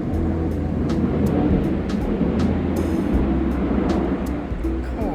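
An airplane passes overhead at a fishing lake, a steady low broad roar that stays constant throughout with faint clicks above it, no voices.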